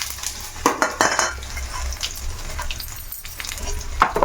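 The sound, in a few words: tempering cumin, mustard seeds, dried chillies and garlic in hot oil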